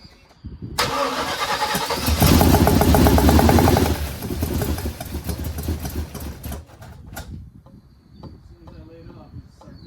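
A 1979 Chevrolet Malibu engine cranking and catching, then revving loudly with throttle blips before settling to a rough, uneven idle, close by, with brief voices around it.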